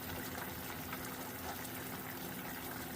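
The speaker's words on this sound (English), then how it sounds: "I'm going to cover them up with the final water" Water is poured steadily into a pot of oxtail curry, a continuous even gushing and splashing with a faint low hum underneath, moderately quiet and uninterrupted, no talking.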